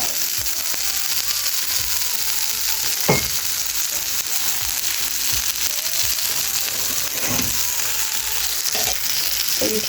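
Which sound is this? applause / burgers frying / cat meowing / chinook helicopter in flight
burgers frying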